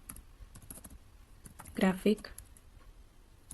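Someone types a prompt on a computer keyboard: a run of quick, light key clicks at low level, with a brief louder cluster of strokes midway.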